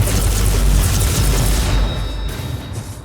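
Missile launcher explosions in the video game Warhammer 40K: Inquisitor-Martyr, a deep rumbling boom that swells loudly and then fades into a lingering low roar.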